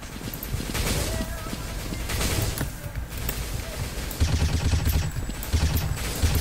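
Machine-gun fire rattles in the shooter game 生死狙击 (Shengsi Juji) during a challenge match, with repeated bursts of close gunfire and scattered explosions layered over game music and background noise.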